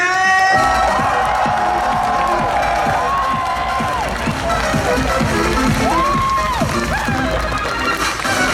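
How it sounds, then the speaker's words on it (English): A large convention crowd cheers and screams loudly and continuously, with high excited shrieks rising above the roar. "So give him your voice, loud and proud, a scream for Charles Martinet!"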